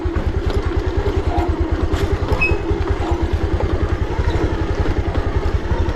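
Motorcycle rolling downhill on a loose gravel road in dense forest: a close, steady low engine putter with a pulsing beat and light crunching clatter throughout.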